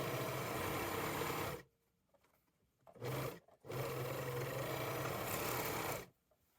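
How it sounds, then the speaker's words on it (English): An overlocker runs loud and close, serging the raw edges of a fabric apron pocket in two long sustained bursts with a brief stutter between them and quiet pauses around them. "Next, overlock the raw edges of the pocket."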